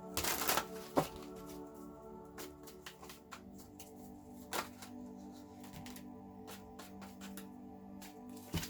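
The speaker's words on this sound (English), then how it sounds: "I'm shuffling these in reverse again." Tarot cards being shuffled up close: a burst of riffling, then a long series of soft snapping flicks in quick, uneven rhythm.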